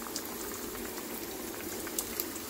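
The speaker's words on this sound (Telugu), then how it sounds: "ఇదిగోండి ఇక్కడ ఫ్రై అవుతుంది." Bitter gourd curry fries gently in a pan, giving a faint, steady bubbling crackle with a few tiny pops, heard close and quietly with no talking.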